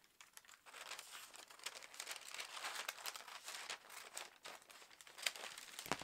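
Scissors cutting through a paper swimwear pattern, a faint crisp crinkling and snipping that runs continuously with small irregular bursts, no talking.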